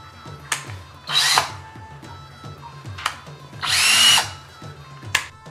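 A handheld electric drill machine with a two-speed button runs in short bursts, spinning up loudly twice for about a second each, with quieter clicks and handling knocks between.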